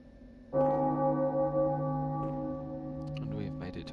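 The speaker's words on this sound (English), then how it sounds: "And we've made it to Odin Chapel, and thus the bell chimes." A church bell at Odin Chapel in a video game strikes once loudly and close, its sustained metallic tone ringing and slowly fading, while a voice starts talking near the end.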